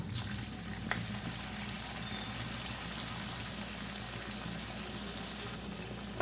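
A snack fries in hot oil over a medium flame, giving a steady, close hiss of bubbling and sizzling that runs unbroken throughout.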